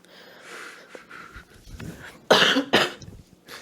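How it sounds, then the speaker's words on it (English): A person coughs several times, with two loud, sharp coughs near the end following softer throat sounds and breaths. "Sorry, I'm only going to cough."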